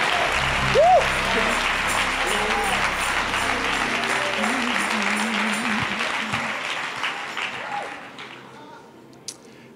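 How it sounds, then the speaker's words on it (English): A church congregation claps hands during a Pentecost service, steady dense clapping with shouted voices and cheers over it, tapering off toward the end. "Come on, clap your hands in the house."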